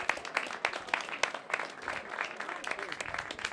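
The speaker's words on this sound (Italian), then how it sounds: "applaudito Osso Armellino" A crowd at a football match between Cjarlins Muzane and Torviscosa applauding the substituted player Osso Armellino, scattered clapping from a modest crowd under a commentator's voice.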